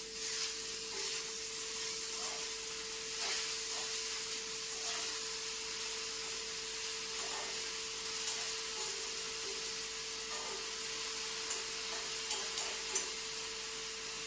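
Spinach leaves for ila thoran hiss and sizzle steadily in a hot pan over a low flame, with faint scraping as they are stirred.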